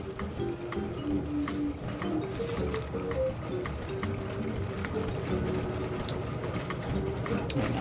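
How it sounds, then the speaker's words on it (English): Water drains from a rock tumbler barrel into an empty bucket, a continuous trickling pour with gurgles and small splashes, moderately quiet, with faint bird calls in the background. "drain our water into it"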